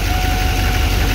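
A 2006 Duramax LBZ diesel engine with 210,000 miles is running, giving a loud, close, steady rumble with a rhythmic low-end knock and no speech.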